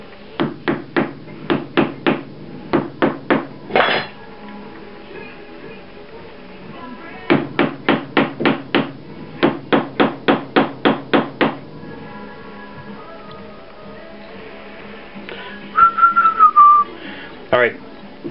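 Steel hammer strikes drive pins through a knife handle in rapid bursts of sharp, evenly spaced taps, several runs of six to eight blows separated by pauses, with a brief squeak near the end.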